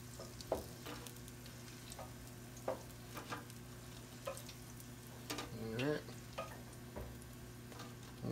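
Glazed donuts fry in hot oil with a steady, close sizzle and bubbling, broken by a few light clinks and taps from a utensil.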